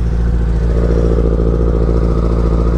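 Yamaha R6 motorcycle with an Akrapovic exhaust riding along, its engine note a loud, close, steady mid-pitched drone with a pulsing throb, heard on its own without speech.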